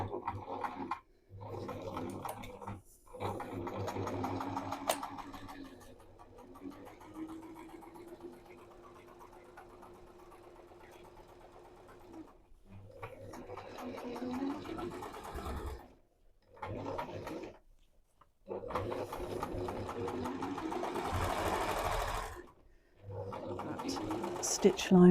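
A sewing machine stitches an open-weave blanket in steady whirring runs that pause and restart across the stretch, with voices talking in between and over it.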